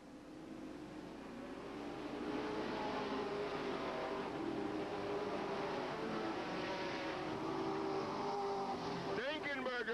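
Sportsman race cars roar around Hales Corners Speedway oval, a continuous blend of engines rising and passing at a distance under a commentator's voice.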